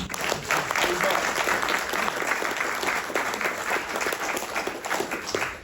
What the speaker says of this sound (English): Rebecca, give him a round of applause.